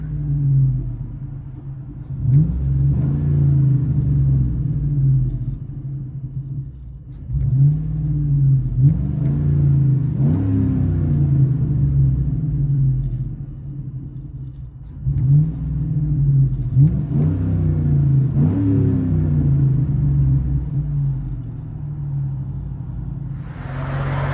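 A 2007 Chevy Tahoe's deep, rumbling 5.3L V8 idles steadily with a throaty Flowmaster 40 Series exhaust burble, broken by a few short revs that swell and settle back.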